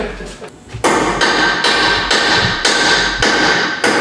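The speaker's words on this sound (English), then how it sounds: "Jackson, we are in a shop. Hammer away, brother." Steel hammer blows ring out in a truck shop while a 2023 Nissan Frontier race truck is being built, about seven sharp, loud, evenly spaced strikes, each with a short metallic ring.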